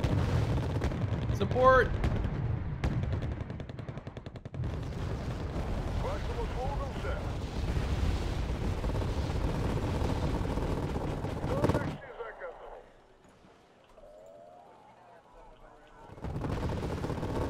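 Heavy gunfire and artillery from the video game Wargame: AirLand Battle rumble densely for about twelve seconds under excited talk, then drop away to near silence before the barrage resumes.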